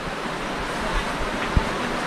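Steady rushing water of a river flowing past a riverside spot at the Karangan tourist village, a broad, constant wash with faint gusty rumbles, fairly loud and close, no voices.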